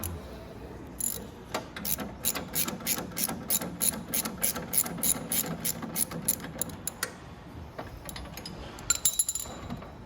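Ratchet wrench clicking steadily as a 13 mm bolt is backed off a 125cc mini jeep during brake master cylinder work, a fast run of close, crisp ratcheting strokes in short bursts with brief pauses.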